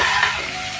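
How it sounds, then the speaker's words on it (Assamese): Potatoes fry in hot oil in a home kitchen pan, a steady close sizzle with light stirring scrapes running throughout, no voices. "আলু দিছোঁ ধুনীয়াকৈ ফ্ৰাই হৈ গ'ল"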